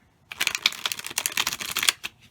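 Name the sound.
shuffling tarot cards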